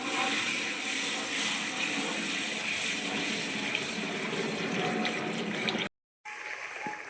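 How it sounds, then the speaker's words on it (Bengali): Water poured into a pan of fried ground spices for a pea kofta curry, a steady close gushing splash running continuously for about six seconds before cutting off, then a quieter sizzle. "এবার দিয়ে দিচ্ছি জল"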